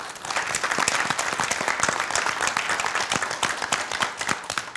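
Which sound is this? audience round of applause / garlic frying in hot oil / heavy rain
audience round of applause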